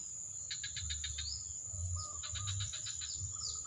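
Male bamboo prinia calling outdoors, faint bursts of rapid high chirps in two clusters over steady insect buzz and low background rumble.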